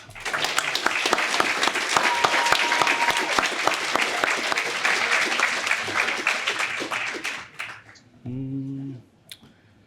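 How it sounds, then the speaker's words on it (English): Audience applause for award winners at a military quarterly awards ceremony on Lajes Field in the Azores, a long sustained burst of many hands clapping, loud and even, then cutting off abruptly before a brief tonal sound and silence. "Let's give one last round of applause for our winners"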